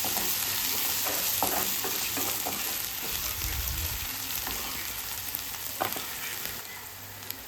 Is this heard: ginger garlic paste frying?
yes